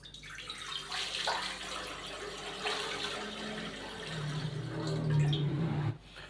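Water poured into a large cooking pot, about 1.5 to 2 litres, before steaming chicken, a close, steady splashing pour that rises in pitch as the pot fills and then stops abruptly.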